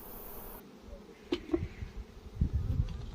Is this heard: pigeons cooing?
no